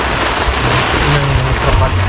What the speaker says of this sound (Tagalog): Lumakas pa nga yung hangin at yung ulan